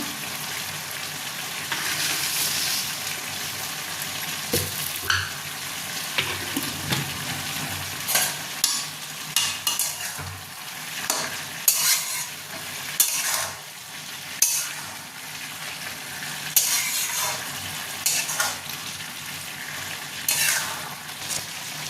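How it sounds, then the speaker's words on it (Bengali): Vegetarian cabbage curry simmering in a pan with a soft constant sizzle, broken by repeated scraping and clinking of a spoon stirring, in irregular bursts throughout. "তরকারিটা যতক্ষণ জল না মরছে ততক্ষণ হোক।"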